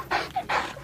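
A dog pants in two quick, close bursts of breathy huffing with a brief pause between them and no talking.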